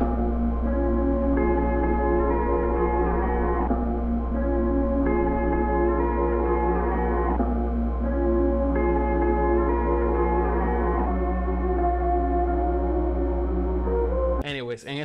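A chopped outro melody sample from a remix production loops in repeating phrases over a heavy sustained bass, loud and continuous for about fourteen seconds before a brief glitchy cut at the end.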